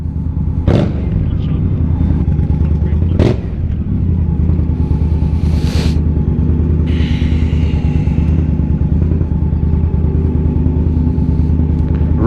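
An MV Agusta motorcycle engine runs loud and steady, a dense continuous roar with a couple of sharp bursts early on, close by inside a showroom.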